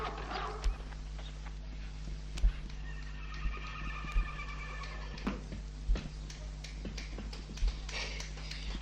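Horse hooves clip-clop in a steady, even rhythm on a vinyl record, with a horse's whinny rising in the middle and a faint background hum.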